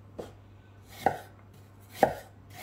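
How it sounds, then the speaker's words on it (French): A knife slices apples for an apple cake with three separate crisp cuts about a second apart, each ending in a soft tap on the board, close and quiet with no talk. "J'ai commencé ici à couper les pommes. Voilà, vous venez les trancher comme ça."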